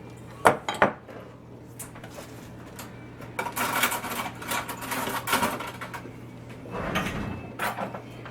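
A spoon scrapes and clinks in a bowl while lentil walnut spread is stirred, giving irregular bursts of close scraping and clattering over a low steady hum.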